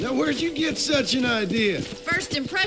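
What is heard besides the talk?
No everyday noise stands out behind the speech.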